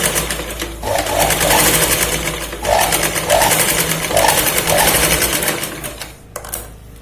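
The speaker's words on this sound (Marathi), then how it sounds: "परत आता पुढच्या पार्टला पण डबल शिलाई लावायची" A sewing machine runs steadily, double-stitching a katori blouse with a continuous loud whirring hum. Brief pauses break the run before it trails off near the end.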